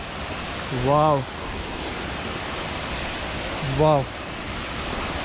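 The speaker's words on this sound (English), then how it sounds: "Look at the waterfalls." Waterfalls at a temple and waterfall site in Coorg, India, roar as a steady, broad rush of falling water throughout, with a person exclaiming in awe twice over the constant noise.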